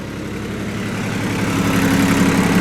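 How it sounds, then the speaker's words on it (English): A tractor engine idles with a low, steady diesel rumble that swells slightly louder partway through, close by and with no talk over it. "I'm going to turn this tractor off again"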